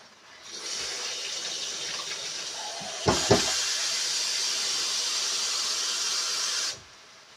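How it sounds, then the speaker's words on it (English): About two cups of water run steadily into a pot while round steak stock is being made, a sustained close hiss with a few brief knocks midway before the flow cuts off. "I'm going to go ahead and add the water now."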